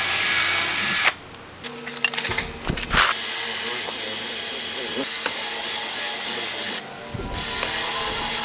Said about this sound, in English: I might as well drill out all the holes underneath